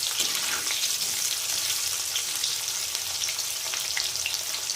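Raw banana pieces fry steadily in hot oil, a dense, even crackling sizzle that stays close and loud throughout with no voices.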